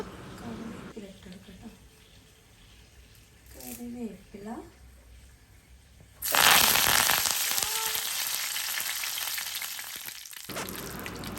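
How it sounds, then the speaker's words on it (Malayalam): Mustard seeds, split dried chilli and curry leaves fry in hot coconut oil for a Kerala-style brinjal dish. A quiet crackle under a speaking voice suddenly bursts into a loud, steady sizzle that continues to the end. "അതുപോലെ 2-3 തണ്ട് കറിവേപ്പിലയും കൂടി ഇട്ട് കൊടുത്തിട്ടുണ്ട്."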